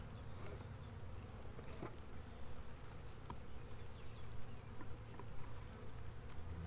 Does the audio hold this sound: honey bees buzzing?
yes